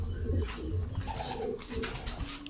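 Young pigeons in a large loft make soft, repeated cooing calls nearby, overlapping with faint rustling and background noise.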